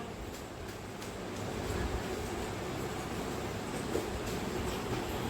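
Steady rumble and rattle of a fairly empty Mumbai local train running between stations toward Chinchpokli, a continuous broadband roar with faint rhythmic clacks throughout, no talking.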